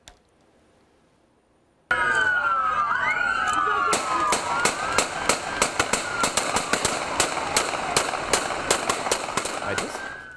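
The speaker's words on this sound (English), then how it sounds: "the suspect took off instead, leading officers on an hour-long chase that ended in this hail of gunfire" Police gunfire erupts at the end of a car chase, following a brief quiet. Dozens of loud, rapid shots crack in an irregular burst, with sirens wailing underneath throughout.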